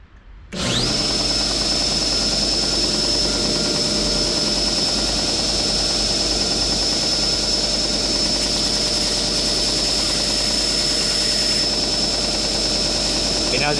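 Power sander working over a wooden room-decoration sign, stripping off paper and glue; a steady, loud motor whine with a constant high tone and grinding friction running the whole way without pause.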